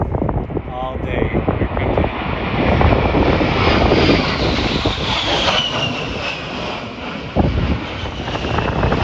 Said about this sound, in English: We've been having this air show all day.